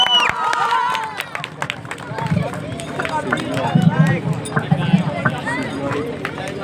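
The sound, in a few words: applause for a top-ranked student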